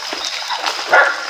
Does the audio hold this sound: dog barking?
yes